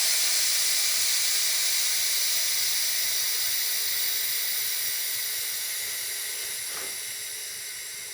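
Continuous high-pitched hiss of compressed air filling a pressure pot for wood stabilization, steady and then gradually easing off, with no voices.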